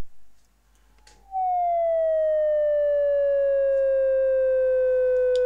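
Steady high electronic tone from a homemade vactrol optocoupler oscillator driven by an LED at 6.4 volts, sliding gradually downward in pitch after a brief quiet start; loud, close and alone, with rich overtones.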